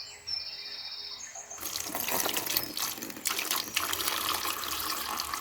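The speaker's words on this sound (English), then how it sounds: "what we're going to do is go ahead and add the water." Tap water pours into a Burpee culinary herb starter kit indoors, a steady splashing rush after a quiet start, close and continuous with no talking.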